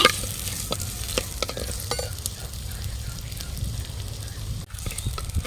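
Small onions and garlic sautéing in a pan for a garlic kulambu, with a continuous close sizzle and frying hiss broken by occasional stirring scrapes, no talking.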